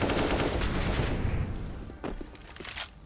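Rapid automatic rifle fire in Counter-Strike on the Inferno map, a dense burst of shots that tapers off, followed by a few separate single cracks near the end.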